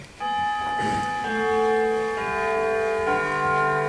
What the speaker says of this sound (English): The bell tolled.